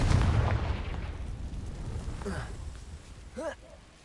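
A Confringo fire spell blast in the video game Hogwarts Legacy: a loud, rumbling burst at the start that decays into a fiery hiss, followed near the end by a short rising magical whoosh.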